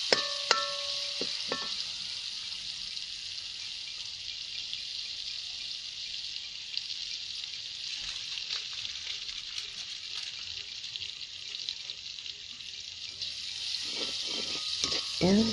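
Curry leaves, onions and garlic fry in a pan over a wood fire in a village kitchen, a steady soft sizzle running throughout with a few clinks and stirring sounds.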